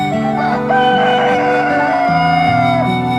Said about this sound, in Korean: 수탉 한 마리가 나타나 지붕 에 올라가 하늘을 바라보며 날마다 울어댔지